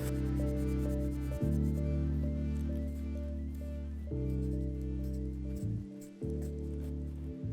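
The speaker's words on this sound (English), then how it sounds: "I already got some sandpaper in there, cleaned it up, smoothed everything out." 600-grit sandpaper wrapped around an 11mm socket rubs inside a bore of a BMW ZF transmission, a close, sustained scraping and squeaky rubbing with a few brief pauses as the stroke changes.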